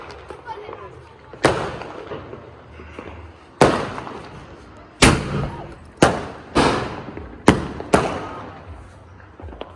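Diwali firecracker bombs burst one after another, sharp loud bangs at irregular intervals with crackling tails, some near and some farther off, while someone talks between them.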